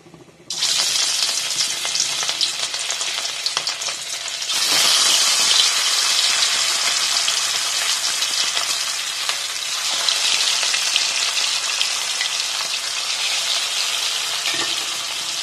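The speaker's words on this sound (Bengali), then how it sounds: "প্রথমে কড়ায় তেল দিয়ে নিয়েছি, এবার মাছগুলো এর মধ্যে ছেড়ে দেবো।" Pieces of katla fish drop into hot oil in a kadai and fry with a loud, continuous, crackling sizzle that holds steady for the whole stretch, with no talking.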